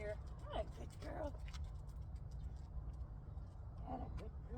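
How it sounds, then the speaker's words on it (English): A car passes along a road at a distance, a faint low rumble that rises and fades in a quiet outdoor setting while a person talks softly. "So here comes another car."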